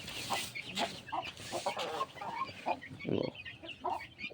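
Backyard hens and roosters cluck in scattered short bursts, fairly quiet and a little distant, with no talking.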